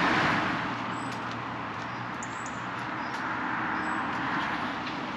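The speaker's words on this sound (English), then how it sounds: "constant roar of traffic" Constant roar of road traffic passing old cottages in a Surrey village, a steady broadband rumble with no gaps, close and fairly loud, with faint high chirps above it.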